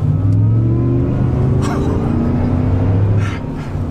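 A 650-horsepower Chevy Silverado Jackal pickup in four-wheel-drive auto accelerates hard from a rolling start, its loud engine roaring and rising steadily in pitch as it pulls, heard close from inside the cab.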